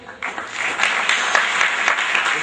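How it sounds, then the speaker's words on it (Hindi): Applause breaks out at a school function and quickly swells into loud, thick clapping from a large seated audience, continuing strongly to the end. "इस बात से तो तालियां से जैसे बम विस्फोट हो गया हो।"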